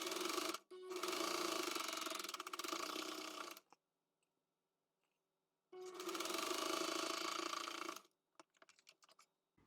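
A sewing machine runs steadily while chain piecing quilt block pieces one after another, two sustained whirring bursts of stitching separated by a quiet pause, followed by scattered small clicks and handling noises, close by with no voices.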